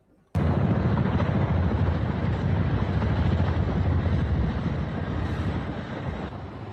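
Several Chinook helicopters flying over Abu Dhabi, a loud, steady rotor roar that starts abruptly and holds throughout with a dense, continuous thrum.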